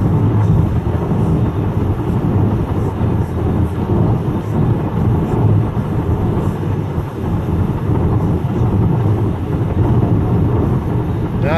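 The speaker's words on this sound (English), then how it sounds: "we're driving along on some of the original 1960s concrete on I-65 South here" Steady car road noise rolls along old 1960s concrete on southbound I-65, a broad continuous rumble and hiss with faint rhythmic thumps from the pavement joints, loud and close throughout.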